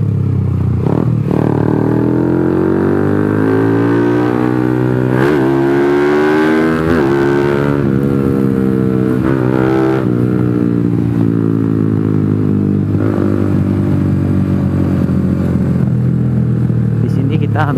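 Suzuki FU motorcycle with a big-bore engine running steadily through city streets at night, a close, continuous engine drone rising and falling with throttle changes, riding along under a voice talking.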